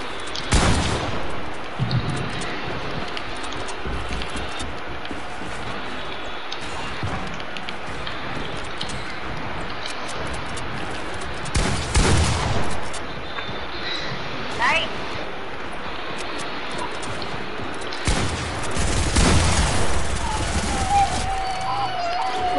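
Gun shots in the battle royale game Fortnite, a few sharp bursts of firing scattered across a long stretch of quieter game ambience with a player talking throughout.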